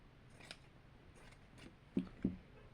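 Scissors snip quietly up close through fabric: one faint cut early on, then two crisp snips in quick succession near the end.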